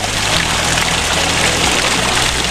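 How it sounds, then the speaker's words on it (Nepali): Water fills containers at an outdoor water source, making a steady, close rushing and splashing flow that runs without a break, with no voices. "अनि भाइ चाहिँ यहाँ पानी भर्दैछ।"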